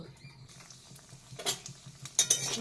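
Bori lentil dumplings fry in white oil in a hot kadai, heard as quiet crackling under clinks and scrapes of a spatula that grow louder toward the end.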